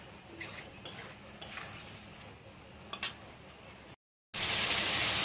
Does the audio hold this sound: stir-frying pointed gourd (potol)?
yes